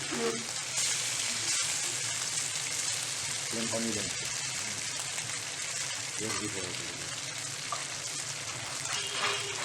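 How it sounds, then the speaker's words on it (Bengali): Pieces of catla fish fry in hot oil for a Bengali fish curry, giving a steady, dense sizzle that runs throughout at close range, with a few brief voiced sounds breaking in now and then. "এবার মাছগুলোকে আমি সুন্দরভাবে উল্টে পাল্টে ভালো মতো ভেজে নেব"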